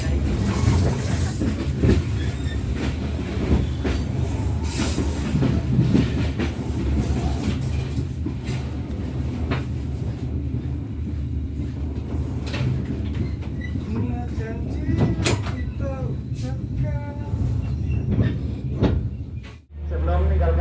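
Steady, loud rumble and rattle of the Penataran passenger train in Java, Indonesia rolling on rails, with rhythmic clacks and faint voices in the background, ending in a dull thud.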